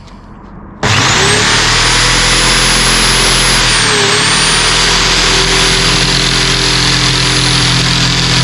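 Power tool cutting plexiglass starts abruptly and holds a loud, continuous whine with a steady tone that dips briefly midway, running alone throughout.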